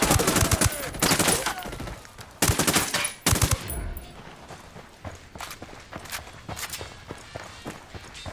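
Gunfire in Ghost Recon Wildlands: rapid bursts of automatic fire and sharp shots in clusters, loud at first, then thinning to quieter scattered reports and footsteps.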